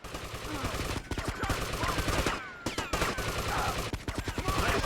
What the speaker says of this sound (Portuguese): Atirando até no pessoal, né?